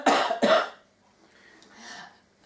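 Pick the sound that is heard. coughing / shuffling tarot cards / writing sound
coughing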